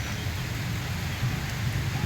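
Steady rain with wind, a dense continuous hiss with low rumbling gusts, unbroken and fairly loud, no voices.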